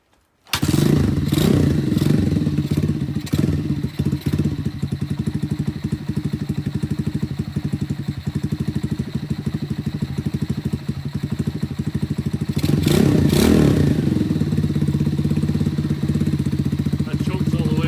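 An AJS Regal Raptor DD50E motorcycle idles high with the choke fully on, a steady close clattering putter that starts abruptly and holds on, rising briefly in a small rev near the end, with a voice speaking over it.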